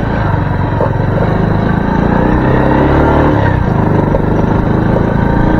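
A farm machine's engine runs steadily at close range in a field, a continuous loud rumbling drone with a constant rough texture and no noticeable change in pace.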